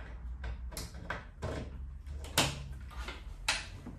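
A wooden drawer of an Anglo-Indian campaign chest is worked open and shut several times, giving close, fairly quiet sliding rubs and knocks over roughly four seconds.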